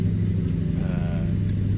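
A tuned road train truck engine with added horsepower and torque runs in a trucking video game, a loud, deep, throbbing engine drone held steady for a brief moment.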